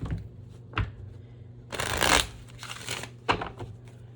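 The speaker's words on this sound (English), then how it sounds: "let's go ahead and pull some oracle cards and see what we get here" Oracle cards are shuffled by hand close up: a short riffle, then longer papery bursts of cards sliding and flicking together, with brief pauses between rounds.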